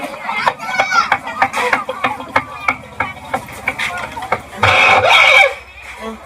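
A voice mimics hoofbeats on sand with rapid, evenly spaced clicking taps, followed by a brief burst of breathy noise, close and fairly loud.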